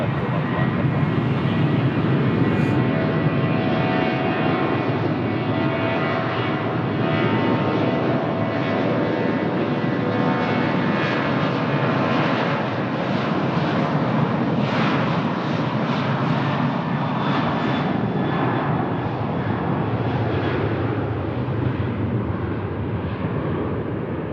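An airliner on the Amsterdam flight at Lisbon Airport roars steadily for a long stretch, a loud sustained rumble of jet engines with slight swells, heard from a distance without voices.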